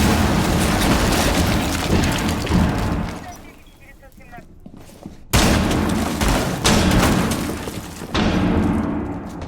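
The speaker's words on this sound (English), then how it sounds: "He's already used all of his fuse charges. Well, he hasn't detonated the last one." Fuse charges detonate during a competitive video game tournament match, producing loud, heavy booms and crackling bursts in several waves, with a short lull between them, under continuous commentary.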